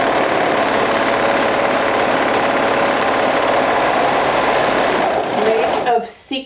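Sewing machine stitching a long ruffled flounce of fabric, a steady close whir running continuously for about five seconds before slowing and stopping, with brief handling sounds at the end.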